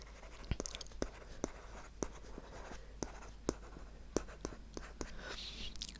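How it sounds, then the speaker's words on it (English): A pen writes notes on paper in an ASMR job-interview roleplay: soft, close scratching strokes with sharp taps and ticks scattered through, quiet and intimate throughout, with no one speaking. "I'm just gonna write that down."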